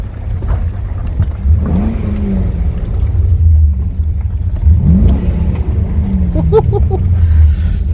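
A stock 5.7 Chevrolet Lumina engine revs up twice in rising sweeps over a steady idle rumble, with wind noise throughout.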